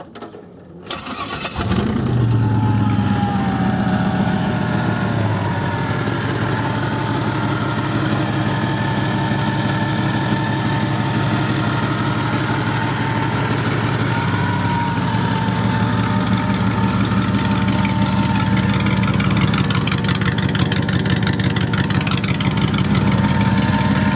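Cheap homemade Corvette go-kart engine cranks briefly, catches after about two seconds, then settles into a loud, steady, close mid-pitched idle that runs on unbroken, with no talking.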